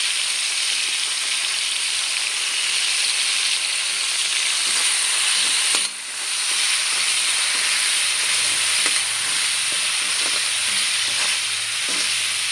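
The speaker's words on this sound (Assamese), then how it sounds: "এনেদৰে মই ভালদৰে ভাজি লৈছোঁ বিলাহীখিনি" Steady, close sizzling of tomatoes frying in hot oil with salt and turmeric, a continuous crackling hiss with occasional stirring clicks, no voices.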